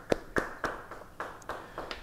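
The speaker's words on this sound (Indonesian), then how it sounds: "Beri tepuk tangan bagi dia." A handful of scattered claps ring out in a church, a sparse, uneven run of about seven separate hand claps, fairly quiet with a little room echo.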